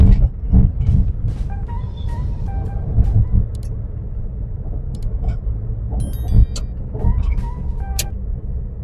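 Car driving in third gear during a driving lesson: steady low engine and road rumble from inside the cabin, with small clicks and knocks throughout.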